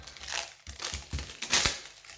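Plastic wrapping around a diamond painting canvas is torn open by hand, with brief close crinkles and rips in quick bursts and one sharper tear near the end, quiet and without speech.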